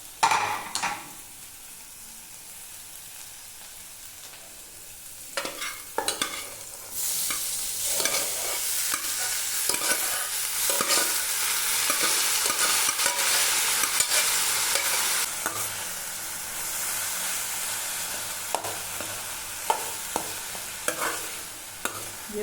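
Vegetables for veg spring rolls stir-fried in a pan: a loud, hissing sizzle swells after a few seconds and holds, punctuated by repeated clatters and scrapes of a spatula, close by with no talking.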